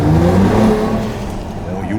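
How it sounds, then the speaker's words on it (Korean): Mercedes-AMG GLE 53 six-cylinder SUV engine and exhaust rev loudly and close by with the window down, then ease into a steadier, slightly quieter drone, with a voice over part of it. "이런 식으로 굉장히 날것이에요. 배기음 같은 경우에는."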